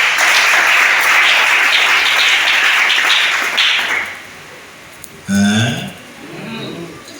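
A church congregation breaks into loud, dense applause and cheering that carries on for about four seconds, then fades out and gives way to a few short vocal sounds.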